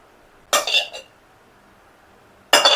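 Fried eggs are scraped out of a metal kadhai wok onto a plate, heard as two short bursts of clattering metal-on-metal and clinking separated by a quiet pause.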